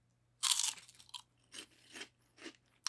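Crunching bites of light, puffed churro twists snack, loud and close, with a sharp bite followed by several shorter chewing crunches at irregular intervals, no talking.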